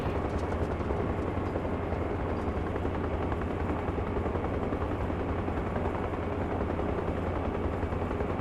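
Aircraft engine in Arma Reforger spooling up for takeoff, a steady loud roar with heavy low rumble and a rapid rotor-like chop running continuously throughout, no voices.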